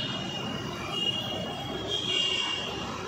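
A metro train passes at a Bangalore metro station, with a steady rolling rumble and a thin, high wheel squeal rising and fading over a few seconds.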